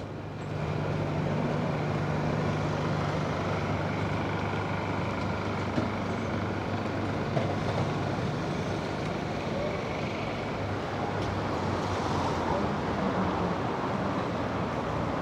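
Garbage trucks on a city street in Manhattan's Upper West Side during neighborhood trash pickup, a steady loud rumble of heavy diesel engines and traffic noise that runs unbroken through the whole stretch, with some faint talk.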